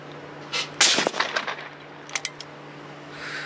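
A shotgun shot during a dove hunt at a quarry in Pennsylvania: a single loud, sharp blast near the mic, followed by a short rattle of fainter cracks and then quiet outdoor ambience.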